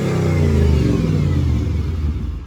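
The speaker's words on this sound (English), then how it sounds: "So car fires up." A cheap Mercedes CLK55 engine runs loud and close, revs sweeping gradually downward from a raised idle with a rich, throaty growl. No talking.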